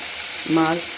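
Fish frying in a pan of oil, a constant soft sizzling hiss with a brief tonal squeak or whine rising midway, close and fairly quiet, no voices.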